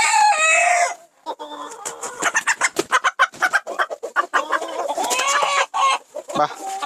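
Turkish Sultan chickens cluck in quick, uneven bursts close by, with a rooster crowing at the start and more calls scattered through, amid farmyard noise.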